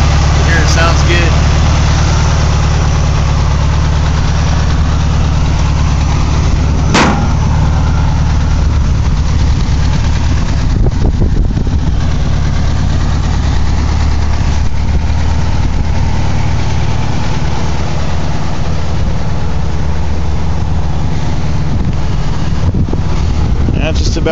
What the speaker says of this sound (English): Brand new case, 1600 dual port. Here it sounds good.